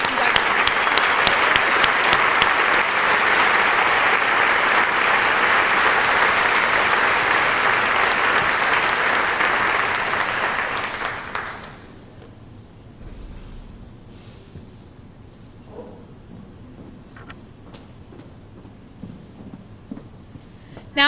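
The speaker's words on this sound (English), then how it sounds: "Please give a round of applause for all of our NHS inductees." An audience at a National Honor Society induction ceremony claps for the new inductees: steady, full applause for about ten seconds that thins out and fades into scattered quiet room noise.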